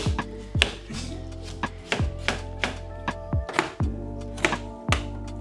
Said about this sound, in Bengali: জীবনে প্রথমবার পেঁয়াজ কাটতেছে